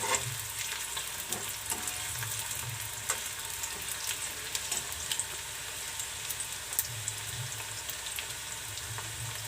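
Carrots stir-fried in a hot pan for street-style veg Schezwan fried rice produce a steady close sizzle, punctuated by frequent scraping and clattering of the spatula.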